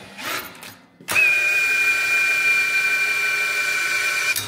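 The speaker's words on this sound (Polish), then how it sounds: "Wkrętarka załapała, ale potrzeba było już naprawdę sporej siły" A cordless drill spins a Vevor 12V 800W wind turbine, kicking in abruptly with a loud, steady high whine that holds for about three seconds before cutting off.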